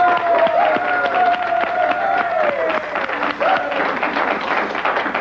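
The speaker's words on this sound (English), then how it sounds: "Big round of applause" Studio audience applause at a Howard Stern television show, a dense, steady wash of clapping throughout with a sliding tonal sound drifting over it.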